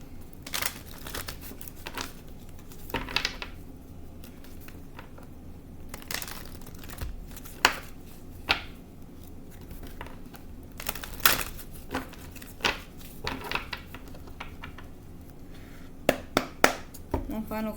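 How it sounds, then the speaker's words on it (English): Tarot cards being shuffled by hand, with soft papery riffles and sharp flicks in irregular bursts, close and fairly quiet, with a voice speaking now and then. "I'm going to shuffle."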